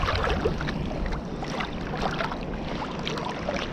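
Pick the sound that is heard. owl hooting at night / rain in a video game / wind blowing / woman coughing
wind blowing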